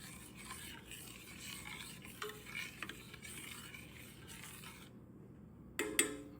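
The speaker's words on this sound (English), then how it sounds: "You're going to take a spoon and stir it around in there, just so it don't be clumpy." A spoon stirring a baking soda mixture in a container, a soft continuous swishing and scraping close by, ending with a short pause and a few light clinks.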